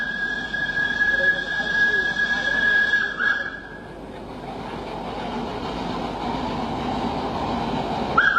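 An old steam tram in Surabaya, Java rumbles along steadily on rails, with a high metallic squeal from the wheels, under a narrating voice.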